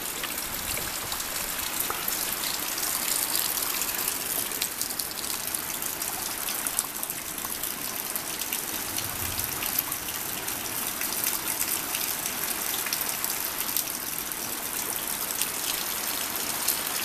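Floodwater gushes steadily over an edge into a gully ditch, a loud, continuous rushing wash close by that holds unbroken throughout with no talking.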